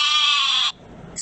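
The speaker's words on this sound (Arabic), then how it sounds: "خروف. sheep." A single loud, wavering bleat from a sheep lasts most of a second, then cuts off abruptly before a brief new bleat begins.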